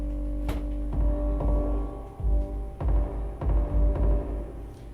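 A synthesizer plays a low sustained drone with a few soft pulsing notes, steady and close, with no talking.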